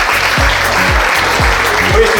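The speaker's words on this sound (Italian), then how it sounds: "gli applausi sulla fiducia, perché non abbiamo ancora fatto nulla per meritarci" Audience applause at a Miss Sorriso Veneto 2022 beauty pageant in Limana, a steady dense wash of clapping running throughout, with low rumbling voice-like tones underneath.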